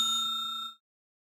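A bright notification bell sounds once in a clean ding, its ringing tone pulsing faintly as it sustains for under a second before cutting off into silence.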